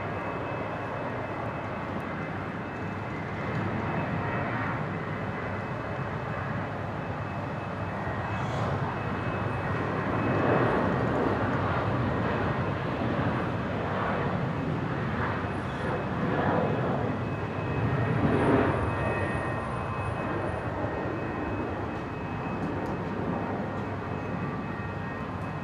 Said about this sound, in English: Here we go, Qantas 521, another one heading down to Sydney here. From 19 left, going full length.